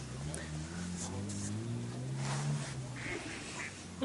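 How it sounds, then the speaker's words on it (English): Ducks walking near a lakeside swimming spot with a wooden sauna in Domarudden, Sweden, quack repeatedly in close, nasal bursts, while someone talks over them throughout. "There's an angry ducks walking in the background"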